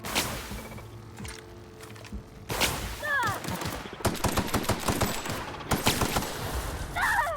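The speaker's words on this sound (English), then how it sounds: "Sorry, I just shot her in the face." Gunfire in The Outer Worlds on Hard, with rapid loud automatic bursts stuttering in close volleys over a low ambient hum, broken by short gaps and a few scattered sharper shots.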